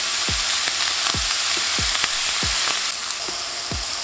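A double stack of burger patties sears in a hot pan for chopped cheese. The steady, close sizzle and hiss carries through, broken by repeated low scrapes or knocks roughly every half second.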